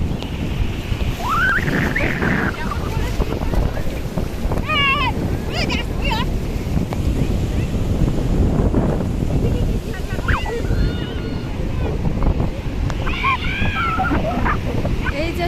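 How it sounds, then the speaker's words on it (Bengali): Big sea waves roll in at Puri beach, a steady loud roar of surf with wind buffeting the microphone, while beachgoers bathe and voices call out faintly over the water. "প্রচুর ঢেউ আসছে দেখো এই যে"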